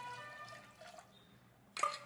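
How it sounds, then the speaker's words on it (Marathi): Water poured into a pressure cooker holding chickpeas, a soft trickling splash near the mic that fades, then a brief louder burst of pouring at the end, with no talk. "आणखीन थोडं टाकून देते पाणी।"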